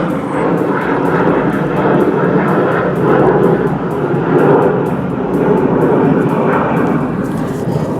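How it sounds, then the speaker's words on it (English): An airplane passes overhead with a loud, continuous broadband roar that holds steady, gently swelling and fading over the whole stretch, with no other sound standing out. "Freaking airplane."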